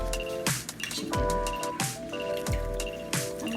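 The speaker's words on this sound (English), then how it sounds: "So let's mix it. And then just pour it into our chicken." Mixed marinade poured onto raw chicken leg quarters in a bowl, giving repeated wet glugs and squishy splashes with small clinks, in about three close bursts roughly a second apart.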